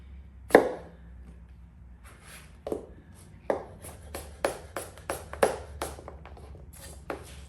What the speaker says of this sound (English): The apples don't gotta be perfect. I like to do them in just slices.